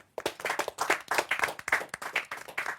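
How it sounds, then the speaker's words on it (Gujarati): An audience claps for Ankit Sakhiya, many hands in a dense, steady round of applause heard close and continuously for about three seconds. "એક વખત જોરદાર તાળીઓ અંકિત સખિયા માટે"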